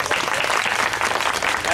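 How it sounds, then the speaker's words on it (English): An audience at a Somerset, Pennsylvania event bursts into dense, loud applause, a full continuous wash of many hands clapping that holds steady throughout, with faint crowd murmur mixed in. "I can tell from that applause"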